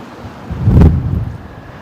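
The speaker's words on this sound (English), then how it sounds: "those wind gusts sound strong" A strong wind gust rushes into the microphone at Brisbane Airport during 35-knot-plus winds, swelling to a loud, deep roar in the middle and then easing back to a steady low rumble.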